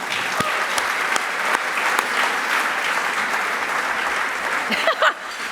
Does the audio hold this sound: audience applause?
yes